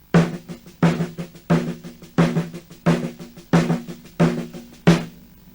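Snare drum alone plays a paradiddle rudiment, crisp close strokes repeating in even groups with a heavy accent on each group's first hit, steady and unaccompanied.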